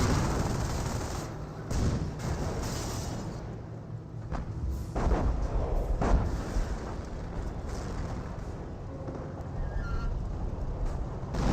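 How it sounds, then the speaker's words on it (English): Artillery fire in Company of Heroes, a rolling barrage of booming impacts and gunfire, several distinct blasts scattered over a steady battle din, moderately loud. "Artillery running in over here, hitting the Humo a little bit."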